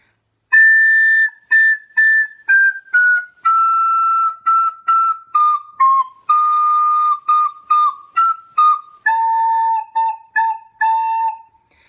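A close soprano recorder plays a run of Carol of the Bells notes in a clear, steady, tongued rhythm, mostly short repeated notes with a few held ones, stepping downward through the phrase, with no voices.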